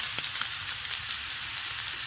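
Broccoli and mushrooms sizzle steadily in a hot pan for pasta, a soft continuous frying hiss with faint stirring scrapes and small pops throughout, no talking.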